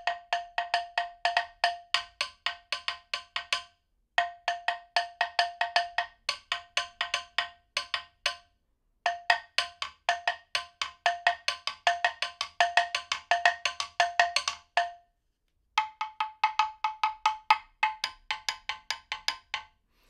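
An African krin slit log drum is struck with two sticks in fast, hollow, woody rhythmic patterns, played in several bursts separated by short pauses, close and clear with no voices.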